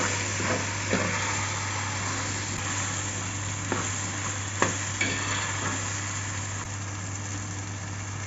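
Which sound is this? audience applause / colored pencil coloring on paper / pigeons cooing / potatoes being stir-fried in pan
potatoes being stir-fried in pan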